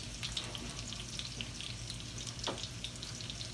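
Almond-crusted tilapia fries in a pan with a steady, soft sizzle and fine crackling throughout, fairly quiet and with no talking.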